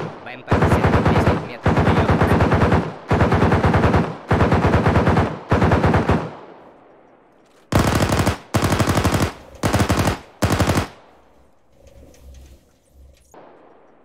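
Loud machine-gun bursts fired at an APC in the ArmA 3 military video game, five long rattling volleys followed by four shorter ones, then a faint low rumble and quiet tail.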